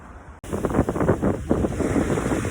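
Ocean surf on the Rhode Island coast washes in steadily with a continuous rushing roar, wind buffeting the microphone throughout.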